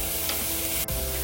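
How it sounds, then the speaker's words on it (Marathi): Onion, turmeric and asafoetida hit hot oil in a tempering for moringa leaf dal, giving a dense, continuous, loud sizzle close by with one brief stir click near the end. "कांदा घालते, हळद, हिंग,"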